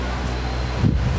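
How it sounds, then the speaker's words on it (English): Sea breeze in Ito, Japan, buffets the microphone in a low, steady roar, with a brief louder gust near the end. "Sea breeze."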